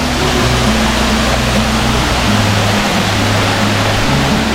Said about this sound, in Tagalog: so ito yung falls dito